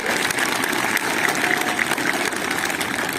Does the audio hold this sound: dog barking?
no